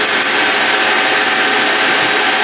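Metal lathe cutting a through hole in a metal workpiece, a steady loud whirring drone with a continuous high-pitched hiss that holds evenly throughout with no pauses.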